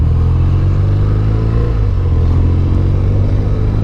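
A steady, loud, rough air-and-oil-cooled boxer engine rumble from a scrambler motorcycle at close range, holding a constant low throb throughout.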